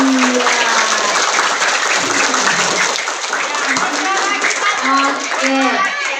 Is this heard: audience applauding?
yes